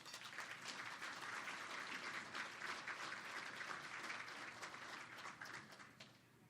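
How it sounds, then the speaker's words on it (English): A roomful of people at a business networking event applaud steadily, a dense patter of many hands clapping at moderate distance, tapering off slightly at the end. "Can we give him another round of applause, please?"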